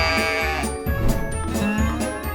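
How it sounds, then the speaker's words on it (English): Sheep bleats from a farm animal puzzle game, a few clear, fairly loud calls in quick succession over a looping musical backdrop, with no talking. "This is a sheep."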